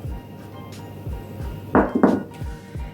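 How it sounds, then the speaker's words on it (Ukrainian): Chicken eggs go into a bowl of pancake batter with two sharp, close ceramic clinks in quick succession, among soft, faint kitchen knocks and low background hum. "І тепер додаємо курячі яйця."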